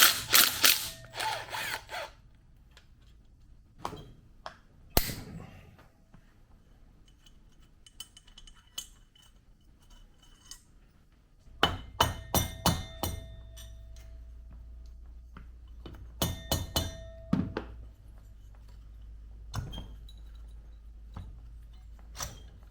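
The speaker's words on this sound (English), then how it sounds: "The cam chain guide bolt can come out now." A ratchet wrench clicks while loosening the cam chain guide bolt on a 2004 Honda CRF150 engine during a teardown, in short bursts of close, sharp ticks separated by quiet pauses, with a livelier stretch in the second half.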